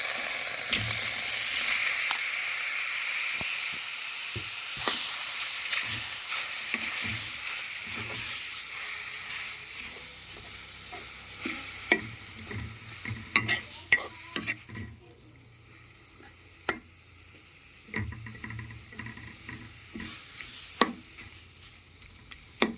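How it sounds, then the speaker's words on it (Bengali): Whole oranges sizzle in a kadai over the heat, a steady frying hiss with scattered scrapes and clinks of a utensil against the pan, louder at first and thinning into sparser crackles and knocks later on. "এখন ওই কড়াইতেই আমি এই যে কমলা লেবুগুলো দিয়ে দেবো"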